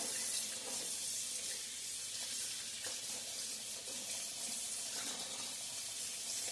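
Kitchen tap running steadily into a sink while hands are washed clean after handling raw chicken, a continuous close hiss and splash with no speech.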